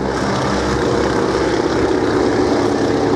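Boeing Stearman biplane at an airshow, its radial propeller engine droning loud and steady throughout with no letup, during a wing-walking display.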